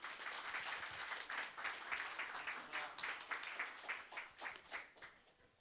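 Soft but continuous applause from a labor union anniversary ceremony crowd welcoming the KCTU chairman, a steady wash of many hands that fades slightly toward the end.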